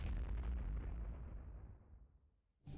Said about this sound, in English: The bigger it is, the larger the explosion, and when at full size, it explodes in a 5x5 area